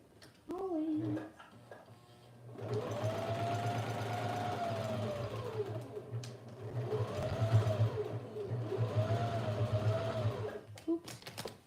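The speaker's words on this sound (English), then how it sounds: "I'm going to top stitch it down first and then I will add this." A sewing machine top stitches fabric in long steady runs with a low mechanical hum, pausing twice between passes, while someone talks over it in short remarks.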